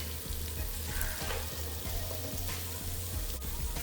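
Chopped tomatoes and green chilies sizzle steadily in a hot pan, a continuous close frying crackle with faint stirring scrapes and no talking.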